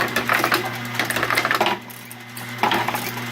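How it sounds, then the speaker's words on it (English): Mini bowling pinsetter machine running, its auger whirring with a steady motor hum under rapid clattering and tapping of pins being moved, in bursts with a brief quieter pause. "There's the auger spinning, you can see right there."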